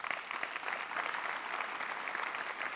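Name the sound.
audience applause in church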